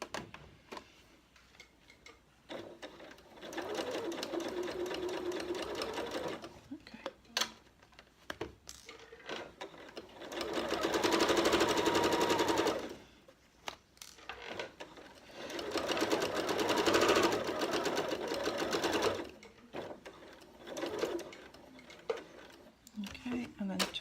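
A sewing machine stitches a zipped pocket into a bag lining in several bursts of steady whirring and clatter, separated by pauses with handling clicks and a person talking.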